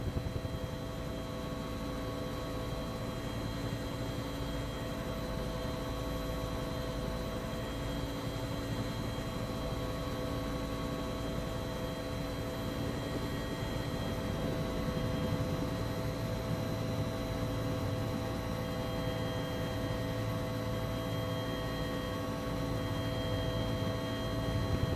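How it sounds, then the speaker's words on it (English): UH-1 Huey helicopter in a flight simulator, a steady droning hum of engine and rotor with constant tonal whine running unbroken throughout, fairly quiet and with no voices. "Blade slap sound is quite convincing, and we also see the aircraft vibrating quite a lot in flight."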